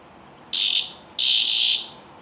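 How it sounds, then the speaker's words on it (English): A cicada buzzes in two short bursts when tapped, the second longer than the first: a bright, harsh, close-up rasp with quiet pauses around it. "try to tap him gently to make the noise"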